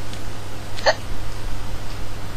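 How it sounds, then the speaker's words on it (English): A single sharp hiccup from a woman cuts through a steady low background hum, brief and fairly close, with no talking around it. "she has hiccups"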